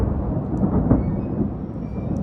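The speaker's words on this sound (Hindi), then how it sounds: "बारिश हो रही" Rain falling during a storm: a dense, steady hiss of rainfall with a low rolling rumble of thunder swelling and fading beneath it.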